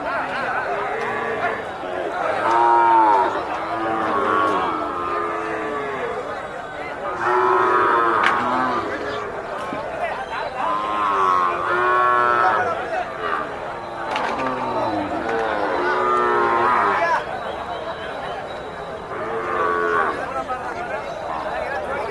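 Cattle at a livestock market fair in Anthiyur moo repeatedly in long, drawn-out calls, loud and near, amid steady crowd chatter and people talking throughout.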